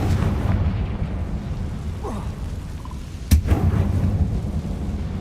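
Confringo fire spell exploding in Hogwarts Legacy, a sharp blast partway through that bursts out of a constant rumbling game background, followed by a low roar that trails off.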